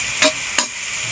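Bright, steady sizzle of tilapia frying with crushed ginger in a pan, broken by two quick spatula stirs, loud and close.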